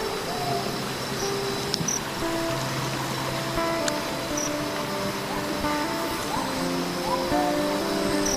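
A waterfall on the upper Sut River in the Baleh area gives a steady, loud rush of falling water that fills the whole stretch, with faint chirping calls scattered over it.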